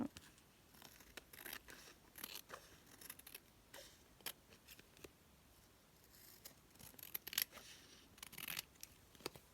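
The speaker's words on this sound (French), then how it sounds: "Je vais couper ce qui dépasse." Scissors trim the overhanging edge of an artist trading card, a series of quiet, crisp snips and paper rustles at close range, irregular across the whole stretch with no one talking.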